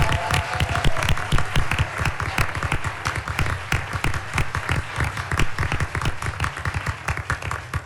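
A room of meeting attendees gives a sustained round of clapping for the year's retirees, with dense overlapping hand claps at steady volume and no voices standing out, at a park district board meeting.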